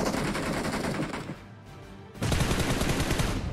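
Rapid bursts of automatic gunfire in a battle royale video game, dense and loud, dropping to a brief lull before another heavy volley erupts close by.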